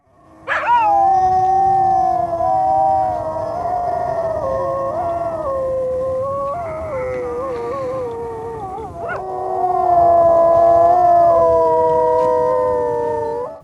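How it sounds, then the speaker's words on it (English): Several dogs howl together across an Arctic landscape, long sustained wavering tones that rise and overlap, loud and unbroken for over ten seconds with a brief dip midway. "the film opens with dogs howling on an Arctic landscape"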